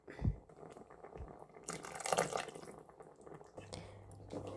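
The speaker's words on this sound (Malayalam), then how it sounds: "പുളിയും വെള്ളവും ചേർത്തു." Tamarind water poured into a pot of onion tomato sambar, a soft, faint splash and trickle lasting a second or two, with drips before and after.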